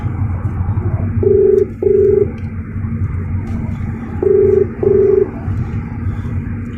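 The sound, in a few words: mobile phone dialing tones while placing a call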